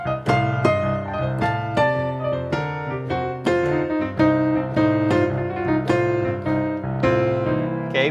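Blues piano turns ring out solo, with quick ornamental rolls around melody notes over a bass line in a lively, continuous flow, close and clear.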